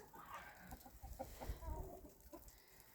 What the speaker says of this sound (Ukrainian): Зараз випустила кохінхінів на прогулянку підзбирати хробачків.